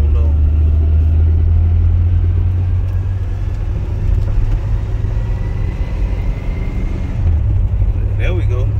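A 1987 Oldsmobile Cutlass engine idling and running with a steady loud low rumble, the pitch dipping briefly as the transmission shifts over, close up throughout.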